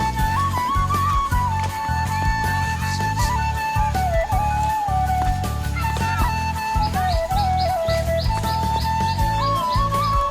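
Birds chirping in a green field, with repeated high tweets and calls over a rhythmic low beat and melodic background music, fairly loud and continuous.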